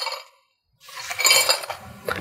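A box of budget bike lights shaken in the hands gives a loud, bright jumble of clinking and rattling, like loose broken glass, after a short silence.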